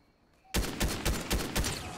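A video-game DMR rifle opens up after a brief quiet moment, firing a rapid string of loud, punchy shots at a steady rhythm, close and dominant.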